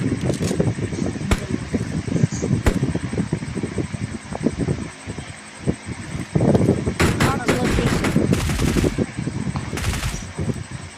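Bursts of rapid gunfire and sharp single shots, including sniper rifle fire, ring out in a PUBG Mobile match, mixed with in-game sounds while players talk excitedly over them.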